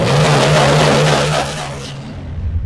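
A Bajaj Pulsar N250 motorcycle engine idles steadily just after starting, a low continuous hum with a loud broadband rumble that eases off after a couple of seconds, with a possible exhaust pipe leak.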